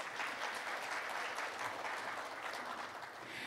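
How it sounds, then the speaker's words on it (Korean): Applause from the audience at the Seoul Forum 2025 opening ceremony, a steady wash of many hands clapping that holds evenly throughout at a soft, distant level with no voices. "뜨거운 박수 부탁드립니다."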